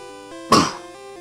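One sharp, loud cough bursts out over a steady electronic hum of Pokémon Yellow game music, then fades quickly.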